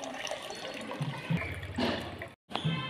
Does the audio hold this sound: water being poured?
yes